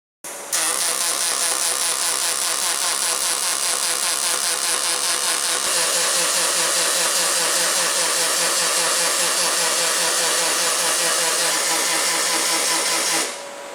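A pulse welder runs along the edges of an aluminum truck bed cover, producing a loud, continuous rapid buzzing crackle with a fast pulsing rhythm that starts abruptly and cuts off near the end.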